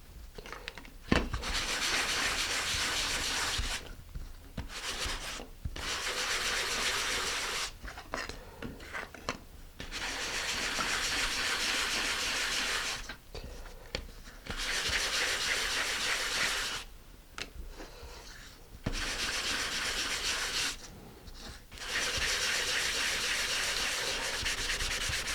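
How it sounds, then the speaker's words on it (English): Fine 220-grit sandpaper rubbed on a part while building a Texas Twister model rocket kit, a close, steady scratchy hiss in repeated strokes of a few seconds each, broken by short pauses. "This is some fine grit sandpaper. I think it's about 220."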